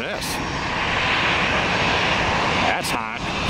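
Boeing 757 airliner passing overhead near a busy airport, a loud continuous roar of jet engines that swells and holds, with brief bursts of wind or handling noise.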